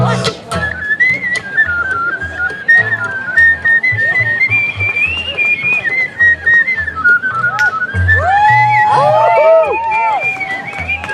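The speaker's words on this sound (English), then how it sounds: "Here's Whistling Rick" A person whistles a tune over steady crowd noise and strummed music from a live hillbilly band set, the melody gliding up and down and more trills sounding near the end.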